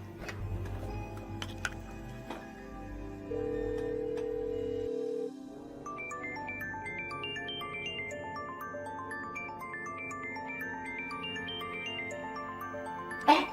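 A phone rings for an incoming call in an indoor room, a soft, repeating electronic ringtone melody that plays alone at moderate volume after a brief low hum.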